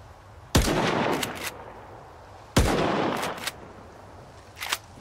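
Gunfire in the shooter game STALKER 2, two loud, sharp close-range shots about two seconds apart, each trailed by a rattling echo, then a fainter crack at the end.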